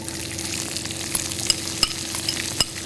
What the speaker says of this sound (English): we have to saute the onions till they become golden brown in color